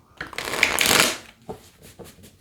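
Tarot cards are shuffled close up in one loud riffling burst, followed by a few softer card taps and shuffles.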